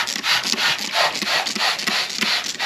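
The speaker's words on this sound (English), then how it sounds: "Most of the time we're going to be sanding in line, just nice long smooth passes." Hand sanding over painted surfaces on an outboard motor, long smooth back-and-forth strokes making a close, steady rhythmic rasp that repeats several times with no talking.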